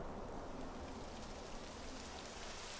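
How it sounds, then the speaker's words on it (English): Rain falling in Dragon Quest XI, a faint, steady hiss of dense droplets with no talk over it. "It would have to go and start raining, wouldn't it?"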